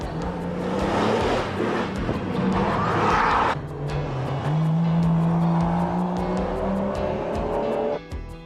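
Rally cars from TARGA Tasmania 1994 racing through the tight streets of Longford, engines revving hard and shifting as cars pass close and loud, with brief tyre squeal and a crowd setting.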